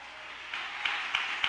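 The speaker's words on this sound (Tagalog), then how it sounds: "Dapat malakas ang palakpak natin." Congregation clapping during a church service, a soft broad wash of scattered claps with a few sharper beats standing out, distant and without talk.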